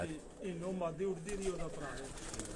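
Pigeons coo softly in a series of rolling calls, with people talking nearby.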